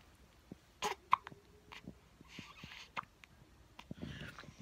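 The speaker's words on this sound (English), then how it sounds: "And this one's just chilling with the hiccups, aren't you?" A pet hiccups in a quiet room, a series of short, sharp, irregular hiccup bursts with soft breathing and small noises between them, close and fairly faint.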